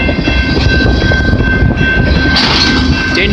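Loud train rolling past close by on the Dundas and Galt Subdivision in London, Ontario, a steady heavy rumble with a sustained high whine and a brief burst of noise partway through.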